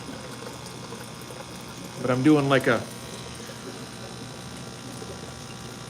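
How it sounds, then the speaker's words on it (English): Water is pumped and poured during a nearly full aquarium water change, heard as a constant motorized drone and flowing water throughout, with a brief spoken phrase near the middle. "pretty much a full water change"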